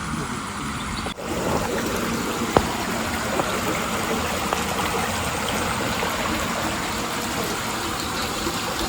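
Flowing water at an outdoor water spot in the evening, a steady broadband rush of a stream running continuously and fairly close, with an occasional faint click over the constant wash.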